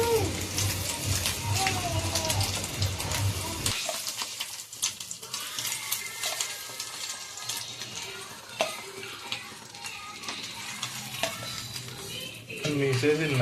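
Batter frying in hot peanut oil for a fish egg fry, a steady crackling sizzle that drops in level after a few seconds as the batter settles, with faint stirring and utensil clinks under quiet talk.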